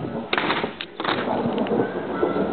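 Thunder rumbles through a lightning storm, a broad continuous roar with a couple of sharper cracks early on, heavy and near, with no voices over it.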